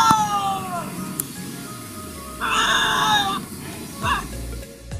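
Several animals scream, snarl and squabble while feeding together at night, harsh rising calls breaking out in loud bursts over a noisy, crackling background.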